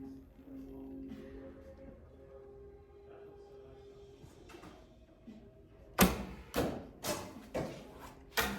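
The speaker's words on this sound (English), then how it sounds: "Did you hear that arrow travel down range?" Arrow shot from a longbow at an indoor range, with sharp broadband impacts and swishes arriving in quick succession across the final seconds after a quieter stretch of room hum.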